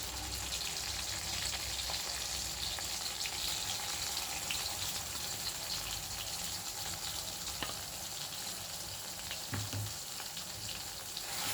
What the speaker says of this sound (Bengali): তেলের মধ্যে মশলাটাকে ভালো করে কষিয়ে নেব